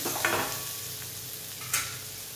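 Cluster beans roasting with masala in a pan, a steady sizzle with a couple of sharp stirring scrapes of the spatula, no voices.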